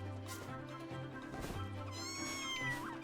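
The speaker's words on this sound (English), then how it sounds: "Where the hell did this cat get here?" A cat meows several times in a rising, drawn-out cry, fairly close over a low steady hum, with no talking.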